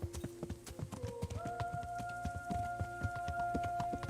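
Horse hooves clip-clop in Kingdom Come: Deliverance, a quick, steady run of sharp hoofbeats, close and fairly faint, with a sustained tonal sound rising beneath them.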